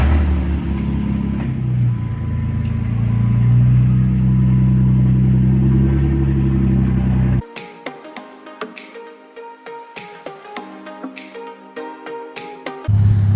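A Jeep engine idles with a steady low rumble for about seven seconds, then cuts to quieter clicking and tapping sounds before the rumble returns at the end.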